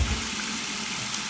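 A faucet running steadily for a warm water rinse of a safety razor, an even close hiss of flowing water.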